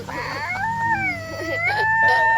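A small dog whimpers and howls in a drawn-out, wavering whine that rises and falls, close and fairly loud with no talk over it.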